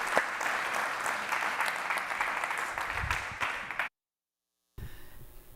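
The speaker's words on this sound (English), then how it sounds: "Let's give yourselves a round of applause" Audience applause at an awards ceremony, a broad steady wash of clapping that holds for about four seconds, then cuts to near silence before a faint room murmur returns.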